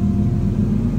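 A vehicle engine idling steadily nearby, a low constant rumble with an even hum and no revving.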